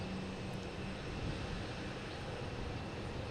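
An American Airlines E-175 at Boston Logan Airport, heard as a steady, moderately distant jet engine rumble and whoosh that stays even throughout, with no voices.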